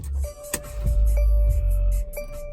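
A 2019 Mercedes-Benz GLC300 starts up, with a chime and clicks followed by a low engine rumble that turns over and settles. The sound is close and clear, with no talking.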